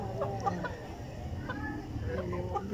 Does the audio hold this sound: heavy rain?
no